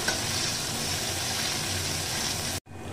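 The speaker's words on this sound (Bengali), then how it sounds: "পেঁয়াজটাকে সামান্য পরিমাণে ভাজা ভাজা করে নেব, খুব একটা ডিপ ফ্রাই করার দরকার নেই।" Chopped onion fries in mustard oil in a wok with a steady, dense sizzle that holds at an even level throughout, close and continuous, with no voices.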